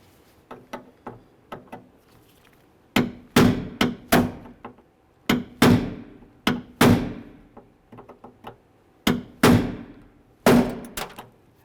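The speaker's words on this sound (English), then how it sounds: "To remove your rivets, punch out the center and then use a drill bit." A punch is hammered into rivet centres on a 1998-2011 Ford Ranger power window regulator, giving sharp metallic strikes in irregular clusters. Light taps come first, then heavier repeated blows, close and loud, each ringing briefly.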